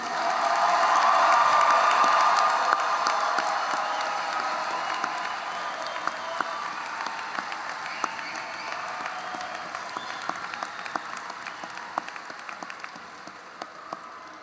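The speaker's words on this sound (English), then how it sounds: "one more round of applause for this class of 2023." Sustained applause from a large crowd at a high school graduation ceremony, loud at first and gradually thinning, with scattered individual claps toward the end.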